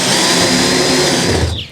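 A power drill drives a screw into the rail of a Suncast 170-gallon plastic dock box with a loud, close whir that winds down at the end.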